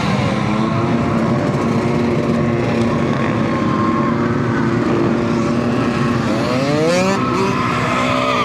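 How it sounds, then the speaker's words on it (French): A race car does burnouts at a parade of drivers at Lohéac, with a loud sustained tire squeal over a revving engine that keeps going and rises in pitch near the end, while a crowd murmurs in the background. "Alors, ça fait des burns."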